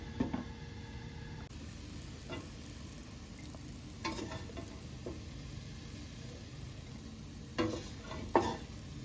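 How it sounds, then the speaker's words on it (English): Garden leaves stir-fry in a pan over a low flame, giving a faint, steady soft sizzle broken by occasional scraping stirs and light clinks. "We can cook it in the low flame for not more than 3 to 5 minutes."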